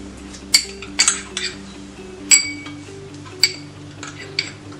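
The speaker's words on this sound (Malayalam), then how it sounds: "ആദ്യം നമുക്ക് മുളക് പൊടിയും മല്ലിപ്പൊടിയും മഞ്ഞൾപ്പൊടിയും കൂടെ അതിന്റെ റോ സ്മെല്ല് മാറുന്ന വരെ ചൂടാക്കി കൊടുക്കണം" A metal spoon stirring chili, coriander and turmeric powder as they heat in a pan, sharp clinks and scrapes against the pan at an uneven rhythm, close and clear over a low steady hum.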